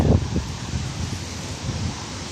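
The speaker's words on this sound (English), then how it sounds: "Oh, it's a windy day. It is a windy day." Gusty wind buffeting the microphone, a low rumbling roar that swells and eases, with no voices.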